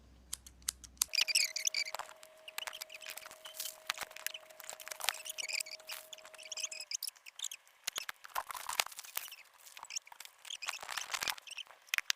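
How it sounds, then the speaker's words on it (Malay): Scissors snip and cut open packaging on newly bought items, giving a long run of crisp, irregular clicks and snips close by, with no talking. "Okay, dan menggunakan gunting."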